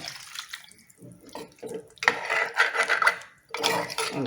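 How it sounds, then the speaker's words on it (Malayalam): Water splashes and gurgles into a cooking pot for a fish and potato curry in two close pouring bursts, with a short pause between them and no talk. "ഇതിലോട്ട് നമ്മൾ വെള്ളം ഒഴിക്കുകയാണ്"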